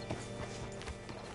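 Horse hooves clip-clop at a walk in the Red Dead Redemption 2 video game, a brief run of soft rhythmic thuds over a steady ambient bed with faint creaks.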